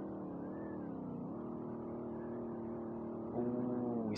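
Engine drone of a car sliding through a long corner in the SLRR driving game, a steady sustained hum that rises and thickens near the end before a sharp burst.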